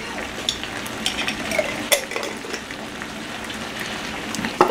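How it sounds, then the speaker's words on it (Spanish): Garlic goes into a hot pan for fajitas and fries with a soft sizzle, with scattered utensil taps and scraping stirs, close and moderately loud, with no talking. "Déjame, le dejo caer el ajo."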